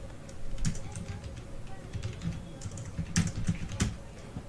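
Fingers type on a computer keyboard while a name is entered in Photoshop, producing irregular bursts of close, quiet key clicks over a faint steady hum.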